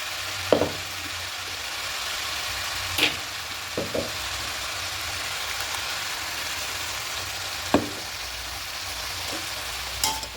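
Beto shak greens with potato fry alongside poppy seed paste and green chilli, a steady soft sizzle broken by a few sharp clanks of a spatula stirring in the pan.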